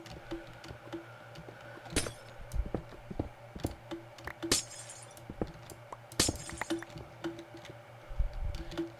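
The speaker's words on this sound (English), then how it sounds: "Funny glass sounds." Glass sounds in Minecraft with ComputerCraft, a scattering of sharp clinks and shattering breaks at irregular intervals over faint game ambience, several loud crashes standing out.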